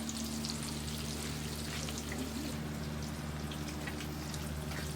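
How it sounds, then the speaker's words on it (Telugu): Fish frying in hot oil outdoors at a farmhouse, a dense, steady sizzle with crackling pops spread throughout, close and continuous, alone without speech. "Fish fry."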